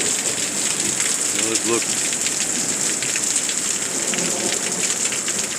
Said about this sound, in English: I swear we're getting hail out here. Maybe it's just really hard raindrops.